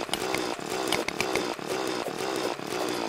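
Continuous buzzing drill grinding through blocks in the video game Terraria, a dense, steady mechanical whir with short dips and rapid rattling pulses, loud and up close.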